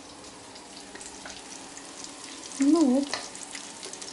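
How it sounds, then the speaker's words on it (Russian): Fish frying in a pan on low heat gives a soft, steady sizzle, close and quiet, with a voice speaking briefly over it. "жарится на медленном огне, жарю"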